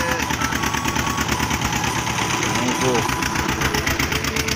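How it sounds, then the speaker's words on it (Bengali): A launch boat engine drones loud and steady as the vessel pulls away on the Matla river near Kaikhali in the Sundarbans, a continuous throbbing chug with voices talking over it. "আমাদের লঞ্চ ছেড়ে দিয়েছে"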